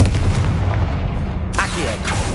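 A Confringo explosion spell is cast in Hogwarts Legacy on PS5, producing a loud, dense booming blast that rumbles continuously with a sharp burst partway through, under game noise.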